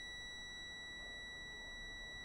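A multimeter in continuity mode sounds a steady high-pitched beep as its probe touches a mobile phone circuit board, one unbroken tone held throughout, quiet and with no talking.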